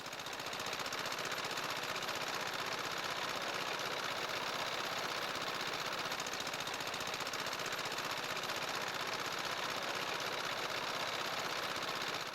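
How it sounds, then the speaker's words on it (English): Rice threshing machine at work in a Vietnamese village, a loud, steady mechanical rattle and clatter with an engine drone running without a break, close by and with no voices. "Today, it's all done by machines."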